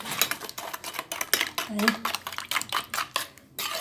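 Batter being mixed in a bowl from flour, baking powder, a little vanilla, oil, milk and sugar, with a steady run of clinking, scraping strokes of a utensil against the bowl, close and fairly loud, with no talking.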